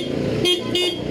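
Two quick honks from a motorcycle horn, a bright nasal beep repeated in rapid succession over a low idling hum.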